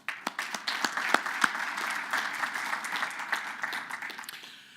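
Audience applause at a tech conference thanking its Demo Pit sponsors, opening with distinct nearby claps that blend into a steady, moderately quiet wash before slowly tapering.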